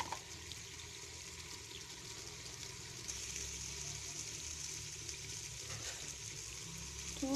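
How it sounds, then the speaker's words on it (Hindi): Water runs and gushes steadily into a pot of mustard greens being cooked with turmeric and chillies, a continuous close pouring wash lasting several seconds with no talking over it. "थोड़ा सा इसमें पानी ऐड कर दूँ।"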